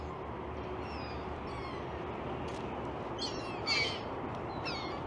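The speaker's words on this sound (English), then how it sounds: "I just scare all these seagulls off." Seagulls calling at a Toronto waterfront in winter as they are scared off, several short cries near the middle and end that rise over a steady outdoor city rumble.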